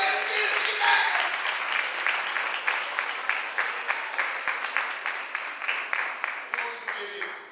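A crowd applauds continuously at an Easter church service, the clapping settling into rhythmic unison beats toward the end.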